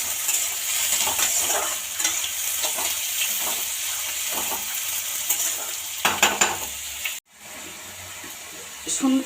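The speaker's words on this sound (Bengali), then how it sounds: "ফোড়নে দিয়ে দিয়েছি সর্ষে, শুকনো লঙ্কা, কারি পাতা, একটুখানি পেঁয়াজ কুচি দিয়ে দিলাম" Mustard seeds, dry red chilli, curry leaves and a little chopped onion sizzle in hot oil, with crackling pops and spatula scrapes over a steady fry that cuts out abruptly near the end, a voice talking intermittently.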